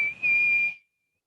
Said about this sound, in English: She took out her whistle and blew it as loud as she could.